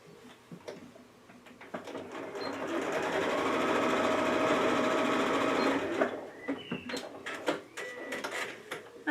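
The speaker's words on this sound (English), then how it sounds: "pull the two sides open and sew straight across." A sewing machine stitches straight across fabric for a Japanese knot bag, a soft close whirring run of several seconds framed by clicks and taps of handling before and after.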